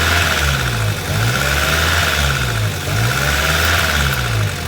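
A Honda Civic engine idles with a rough, steady drone and a faint periodic wobble in its low hum, loud and close throughout.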